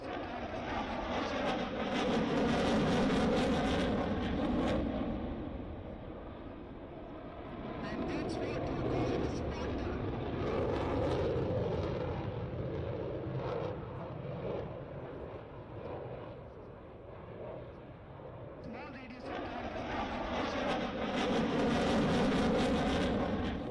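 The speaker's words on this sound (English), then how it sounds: "What you see today is a display of its aerobatics" A Sukhoi Su-30 MKI fighter jet flying an aerobatic display at an air force base roars past in swelling, fading waves of loud broadband jet noise, peaking at the start and the end, with someone talking throughout.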